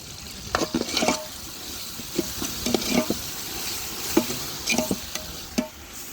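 Ginger garlic paste frying in a pan for an Andhra-style stuffed brinjal curry, a soft sizzle broken by irregular scraping and clicking stir strokes, close and moderately loud, with no talking.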